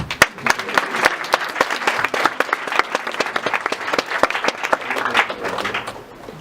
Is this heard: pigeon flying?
no